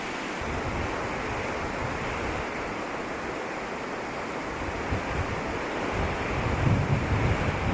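Strong wind roars across an exposed ridge on the Arizona Trail, a dense, continuous rushing that buffets the microphone and grows slightly heavier toward the end, with no voices.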